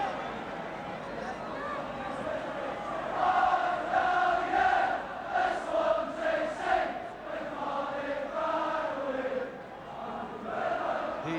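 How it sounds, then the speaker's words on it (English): Football crowd at a Wales versus Iceland match in Swansea, a broad roar of chanting and singing that swells during a throw-in, steady and loud, with a commentator talking over it. "The Swansea crowd really making their presence felt here as Edvaldsen takes this throw. Really making a good noise."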